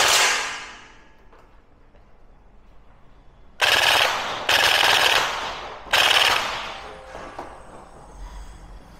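An upgraded PPSh gel blaster fires at a pan in three loud, sharp full-auto bursts, each a dense rattling stream of rapid shots and impacts, separated by brief pauses and followed by a fading ring, with no talking.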